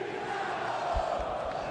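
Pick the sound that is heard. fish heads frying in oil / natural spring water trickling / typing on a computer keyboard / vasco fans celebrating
vasco fans celebrating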